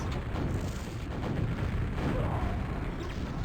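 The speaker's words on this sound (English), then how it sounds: "Nice exchange of rockets." Rocket explosions in a QuakeWorld duel match form a dense, continuous rumble of booms and blasts that stays fairly loud and unbroken for the whole stretch.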